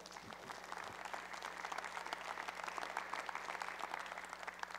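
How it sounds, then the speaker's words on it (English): A small audience claps steadily at a university fall opening convocation at Ball State University, the applause faint and sustained as a soft, even patter with no voices. "Yes, I heard a little applause."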